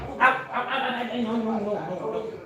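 A dog indoors in a kitchen gives a short bark followed by whining yips, close by and under a person talking.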